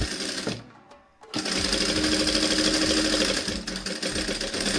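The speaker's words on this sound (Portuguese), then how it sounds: "vou passar a costura reta na pontinha novamente" A sewing machine runs a straight stitch along the edge of fabric, a loud close steady mechanical whir with rapid rhythmic needle pulses, pausing briefly near the start before sewing on.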